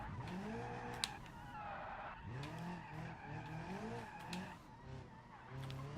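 A car drifting in BeamNG.drive, tires squealing in repeated wavering screeches as the engine revs and drops between slides, heard up close across the whole stretch.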